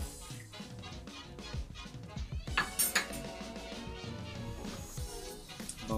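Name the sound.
corn kernels being added to rice in a cooker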